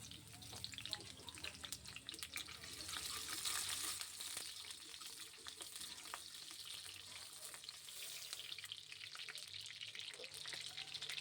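Chopped green chillies hit hot oil in an iron wok while egg chow is being made, giving a loud, steady sizzle and crackle that lasts throughout, with a faint voice in the background.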